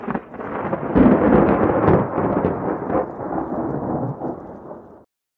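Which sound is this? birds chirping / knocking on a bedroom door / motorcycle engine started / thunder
thunder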